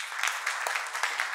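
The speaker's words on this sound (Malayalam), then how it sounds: "അവർക്ക് വേണ്ടി ഒരു കൈയടി കൊടുക്കണം." An audience applauds for singers, a short steady patch of clapping at moderate level with no one speaking over it.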